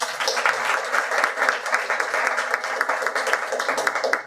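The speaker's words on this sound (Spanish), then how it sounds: "le recibimos con un fuerte aplauso" An audience in Arequipa, Peru bursts into steady, dense applause to welcome a speaker at a political talk, the clapping close and continuous throughout with a faint voice or two mixed in.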